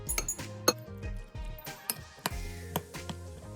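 Drained macaroni mixed with corn flour in a bowl, a series of light clinks and taps of a utensil against the bowl in an irregular rhythm, close and fairly quiet.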